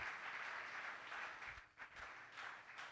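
A church congregation applauds the preacher, steady crowd clapping over three seconds, fairly faint and distant, dipping briefly midway before swelling again.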